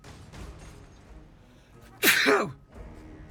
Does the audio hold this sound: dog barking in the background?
no